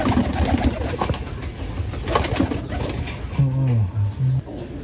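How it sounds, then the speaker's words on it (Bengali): Pigeons coo outdoors by a marshy field, a few deep, rounded calls arriving near the end over steady rustling background noise. "আর এটার দিকে কাপসান বাগা কবুতর ডাকাডাকি শুরু করে দিয়েছে।"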